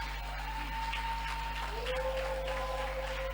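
A church congregation claps in steady, fairly faint applause over a low hum, with sustained tones drifting through the background.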